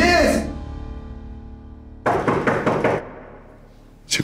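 A rapid burst of about five sharp knocks on a door, loud and close, following a trailing voice and a quiet pause.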